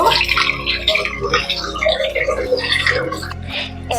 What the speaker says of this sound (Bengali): এবার সয়াবিন গুলোকে ঠান্ডা জল দিয়ে ভালো করে ধুয়ে নেব।